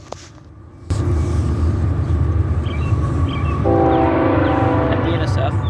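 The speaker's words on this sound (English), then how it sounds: "The next train was a general merchandise, led by foreign power on the head end." A general merchandise freight train led by foreign locomotives passes close by with a loud, steady rumble and clatter of rail cars, and a horn-like tone enters partway through.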